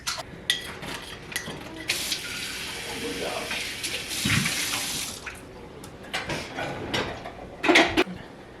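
A kitchen tap runs water into a drinking glass, a steady broadband splash with a brief louder burst near the end, while household voices talk in the background.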